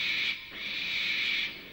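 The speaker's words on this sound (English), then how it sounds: "It was only an owl, but Percy didn't realise this." An owl hooting at night, a steady hoot sustained for over a second after a short first call, fairly clear against a quiet background.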